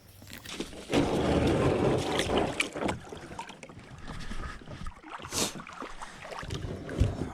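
Old Town Topwater 120 kayak paddled on open water, irregular splashes and drips from paddle strokes, fairly close and soft, with wind noise on the microphone.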